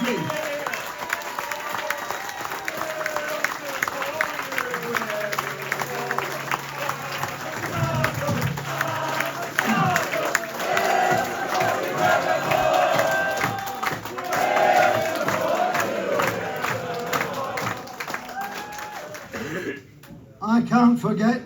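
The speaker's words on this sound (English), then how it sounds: "Give a big round of applause to the leader of International Miners Organisation" Applause and cheering for Arthur Scargill at a Hemsworth miners' 40th anniversary strike event, sustained crowd clapping with shouts and cheers, loud and continuous, briefly dropping off before a final burst.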